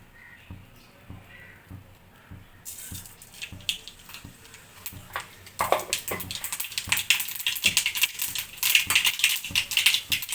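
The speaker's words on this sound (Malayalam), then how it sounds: "ഇത്തിരി കടുക് പൊട്ടിക്കണം." Mustard seeds spluttering in hot coconut oil, starting as faint sparse crackles and building after a few seconds into loud, dense popping and spattering that fills the rest of the clip, with no voices.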